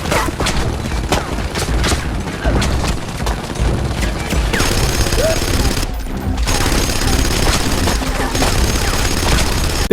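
Rapid video game gunfire rakes destructible walls in a Gears of War-style cover shooter, a dense continuous barrage of loud shots and crashing impacts with a brief lull partway through.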